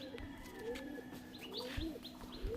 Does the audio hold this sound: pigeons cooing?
yes